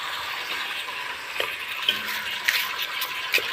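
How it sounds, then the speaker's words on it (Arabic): Spices are stirred into cooking head meat in a pan, a soft, even hiss of frying carrying a few faint scattered clinks and scrapes of a utensil against the pan. "نقلب كده البهارات معاها كده"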